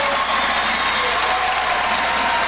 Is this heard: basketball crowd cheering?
yes